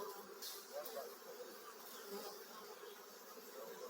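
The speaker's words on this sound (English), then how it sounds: "There's some dark bees there" Dark bees buzzing around a hive during a cutout, a steady, fairly faint swarm hum with individual bees droning past close by, no talking.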